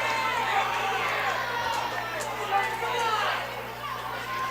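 Subdued crowd murmur and scattered chatter from spectators at a school FFA Ag Olympics relay race, a soft continuous hubbub with no strong cheers, steady and moderately distant throughout.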